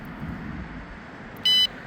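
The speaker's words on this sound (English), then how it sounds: "Added a little alarm piece here that I can turn on." A custom ARWIBON Q30 electric scooter gives one short, clear high-pitched alarm beep as it arms, over a quiet room hum.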